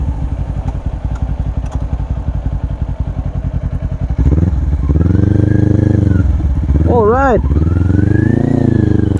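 A 2022 Kawasaki Ninja 400 sports touring motorcycle engine idles with a steady rapid pulse, then rises and falls in revs during a low-speed turning test, loud and close, with someone briefly speaking.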